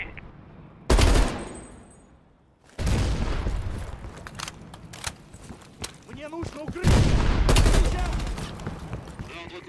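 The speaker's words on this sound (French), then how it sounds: "Attention, une mitrailleuse lourde sur la crête." Heavy machine gun fire in the Call of Duty Black Ops Cold War video game: loud sustained bursts of automatic gunfire with booming impacts, a short lull, then a renewed intense volley near the end.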